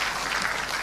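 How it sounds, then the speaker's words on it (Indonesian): Brief burst of dense clapping from an audience at an informal coffee gathering with retired military and police officers, loud and steady throughout with no talk over it. "Kita berikan tepuk tangan."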